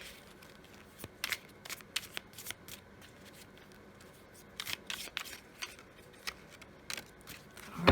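Round tea leaf oracle cards being shuffled and drawn, with soft riffling bursts and quick papery flicks, close and fairly quiet, ending in a louder handling sound.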